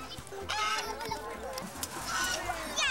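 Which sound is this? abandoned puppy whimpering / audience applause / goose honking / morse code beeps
goose honking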